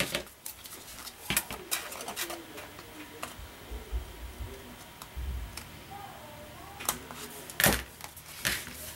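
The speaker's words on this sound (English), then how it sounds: "You're just gonna take a pair of scissors" Scissors snipping into a paper Easter card: a string of faint, irregular clicks and snips at close range in a quiet room, with a few sharper cuts near the end.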